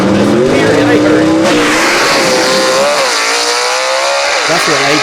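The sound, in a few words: vintage gasser drag race car launching off the start line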